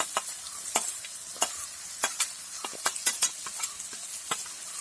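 Cashew nuts are added to tomato cooking in a pan for a chicken dish. A soft sizzle sits under sharp, irregular scraping clicks of stirring, close and fairly loud.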